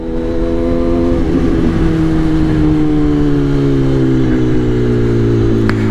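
Kawasaki ZX10R sport motorcycle with a remapped engine revving and pulling hard, a loud, close, continuous whine sweeping in pitch over several seconds with no voices.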